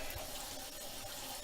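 Water pours steadily into an RV washing machine for a rinse cycle, a continuous close rushing and splashing with no breaks and no talking.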